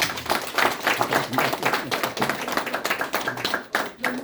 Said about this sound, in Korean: 정말 뜨거운 박수 한번 다시 한번